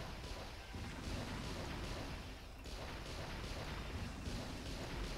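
Artillery in the Warzone 2100 strategy game fires in long series, a dense, continuous rumble of booms and blasts played back fairly quietly.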